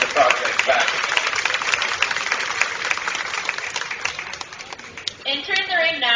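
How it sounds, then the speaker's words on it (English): Audience applause at a county fair swine showmanship event, a broad wash of clapping from the crowd that holds steady for several seconds, with voices and other crowd noise coming through as it fades near the end. "Let's give both these young men a real nice round of applause as they take the project back."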